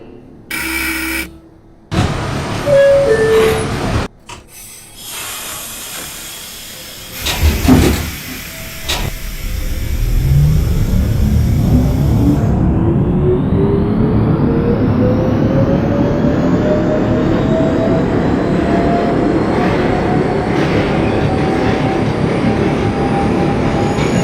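An R168 subway train in the OpenBVE simulator starts from a stop with door and brake clunks, then its motors whine upward in pitch as it accelerates, rumbling steadily and loudly over the track.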